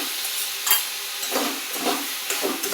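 Mushrooms frying in a pan over high flame for a spicy mushroom curry, with a steady close sizzle and a few stirring scrapes, loud and continuous, no talking.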